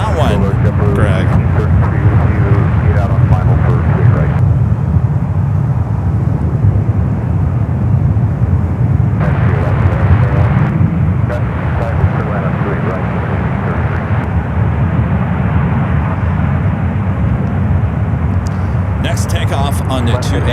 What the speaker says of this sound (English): Takeoff on the 28 left